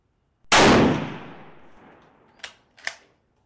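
A Kar 98 bolt-action rifle fires a single handloaded cartridge with a loud, sharp report that rings off and decays over about two seconds, followed by two quick metallic clicks.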